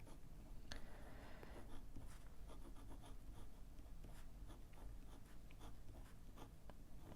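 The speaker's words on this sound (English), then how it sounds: "Let's write, because I can't write and talk at the same time." An inked fountain pen scratches across paper in a continuous close, soft rasp, with small taps and strokes breaking the steady scribble and no talking.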